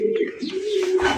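Lotan pigeons at a breeder's sale give a short, close, fairly loud coo, a single throaty call just over a second long with no talking.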